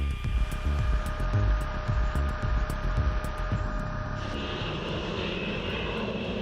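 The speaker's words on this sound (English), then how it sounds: "The United States Air Force conducts a B-52 scramble before its deployment." A B-52 bomber's jet engines roar during a US Air Force scramble: a loud, steady, broadband rumble with a high whine that brightens and thickens after about four seconds, with no voices.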